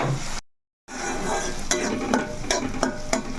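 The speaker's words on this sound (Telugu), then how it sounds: "ఇప్పుడైతే ఇలాగా ఉల్లిపాయ అనేది మగ్గుతుంది కదండి" Onions frying in a pan for a fish curry, a steady close sizzle broken by a brief silent gap, with several sharp utensil scrapes and taps as the onions are stirred.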